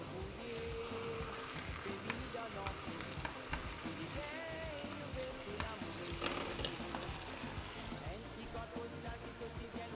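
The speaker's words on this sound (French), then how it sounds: "je fais sauter mes poivrons tranquille là" Bell peppers sauté in a pan with a steady, dense sizzle and crackle that runs unbroken, close and even, with occasional stirring scrapes.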